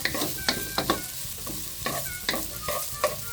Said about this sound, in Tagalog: yung sibuyas naman ay medyo lutuin talaga natin siya